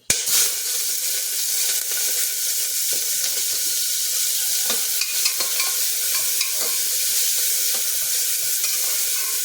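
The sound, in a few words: sautéing onion, ginger, green chilli and garlic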